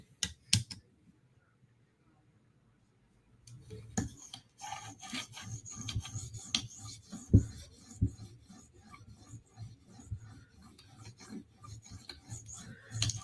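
An S90V steel knife blade is drawn over a 2000 grit stone on a TSProf Kadet sharpening system, giving close rhythmic rasping strokes after a short quiet pause.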